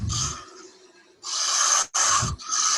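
A turning tool slices across spinning wood on a lathe, giving bursts of dry, hissing shavings, close and fairly loud, separated by short pauses as the cut starts and stops.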